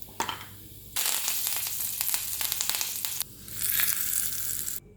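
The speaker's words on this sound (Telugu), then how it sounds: "ఇప్పుడు ఈ పచ్చడికి పోపు వేసుకుందామండి అంతే సింపుల్ మినపప్పు జీలకర్ర ఆవాం" Urad dal, cumin and mustard seeds crackle and sizzle in hot oil for a South Indian chutney tempering. Bursts of loud frying hiss come in two long waves with popping crackles, close and with no talk.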